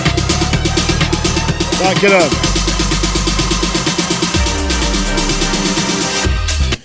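A dense, loud electronic track with echoing delay repeats panning left and right through the mix, while a voice briefly speaks over the music.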